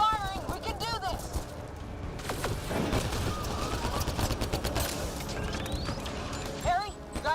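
Sci-fi gunfire rattles through a Mass Effect Andromeda firefight, with continuous overlapping shots and bursts under voiced combat chatter and other game effects.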